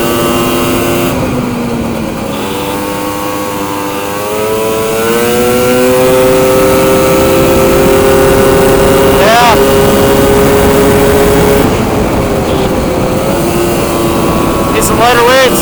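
A snowmobile engine holds a high, steady whine and then climbs in pitch as it revs harder, loud and close, with a brief wind-like hiss in places.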